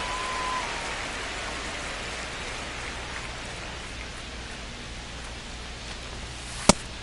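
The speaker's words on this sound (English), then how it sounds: "This rain is not letting up." Steady broadband rain hisses throughout from the baseball video game The Show 25, a dense, even downpour with a short sharp tick near the end.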